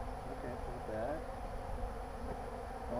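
Steady, close insect buzzing fills the clip, a dense hum of many bees at an opened hive with faint rustling and handling noise underneath.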